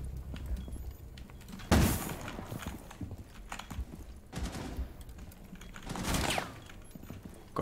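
Gunfire from Jäger's weapon in Rainbow Six Siege, with two or three sharp bursts standing out against quieter clicking and background game noise.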